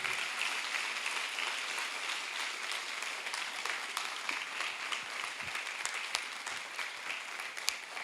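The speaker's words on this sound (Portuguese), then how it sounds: "Vocês podem aplaudir o Senhor?" Steady applause from a church congregation during a sermon, a dense wash of clapping that holds evenly throughout with no voices standing out.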